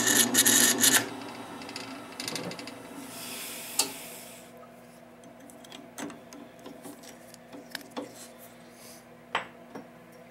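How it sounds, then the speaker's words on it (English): A 3/4 inch hole saw cuts into wood with a harsh, grinding rasp at the start. It gives way to quieter, scattered scraping and clicks as the cut ends. "we are back to the 3/4 inch hole saw, and this will be our final cut."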